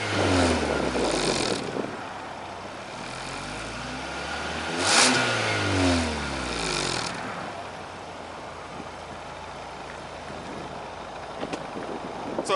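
A 2022 Kia K5 GT sedan with a quad exhaust revs in a few rising and falling throttle blips, a moderately loud growl, then settles into a quieter idle.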